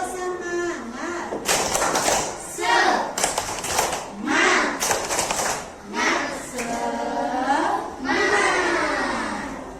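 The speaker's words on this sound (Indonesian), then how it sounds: "Mulai tepuk semangat." A class of children performs the rhythmic tepuk semangat clapping routine, loud bursts of shouted chanting broken up by sharp group claps in a repeating pattern, close and lively.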